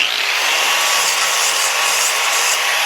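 An abrasive tool grinds and cleans up the edge of a modified S10 spindle, giving a continuous, harsh, hissing rasp up close, even in loudness from start to finish with no talking.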